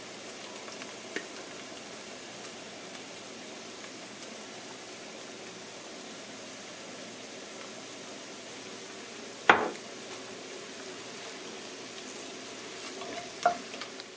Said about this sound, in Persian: و میذاریم کاملا با پیازمون تفت بخوره.